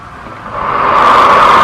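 Compressed air rushing through a small compressible-fluid flow channel fed by a valve and piping, picked up at the channel entrance: a broad, close hiss that swells steadily louder and holds, with no voices.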